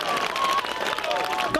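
At a Wimbledon match, a crowd applauds a player after the winning point, a dense patter of clapping mixed with cheering voices while a commentator talks over it.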